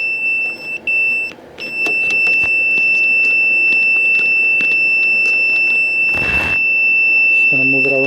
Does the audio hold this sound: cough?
no